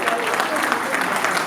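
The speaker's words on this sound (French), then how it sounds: "On applaudit, on applaudit, regardez." Brief burst of audience clapping at a film screening event, a steady crowd of hands with voices faintly mixed in.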